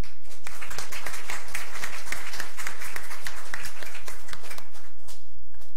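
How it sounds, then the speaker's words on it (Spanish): A room of attendees at a quality-control event applauds an incoming speaker, loud, dense clapping that fills the whole stretch without talk. "un fuerte aplauso"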